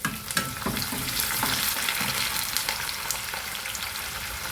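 A handful of curry leaves fries in hot oil for Andhra-style lemon rice, giving a dense, steady, close sizzle with a few sharp crackles and stirring scrapes throughout.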